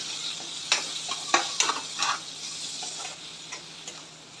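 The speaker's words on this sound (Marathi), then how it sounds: "1 टोमॅटो बारीक चिरलेला तर तो टाकून घेऊ।" Finely chopped tomato dropped into a hot pan with spices, giving a soft steady sizzle with a few sharp stirring clicks and scrapes near the start, fairly quiet and with no talk.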